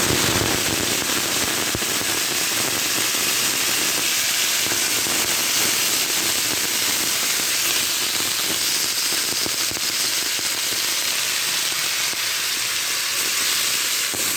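Loud, continuous sizzling and crackling of thinly sliced potatoes and kalmi (water spinach) stalks frying in hot oil with onions, steady throughout with occasional sharper pops.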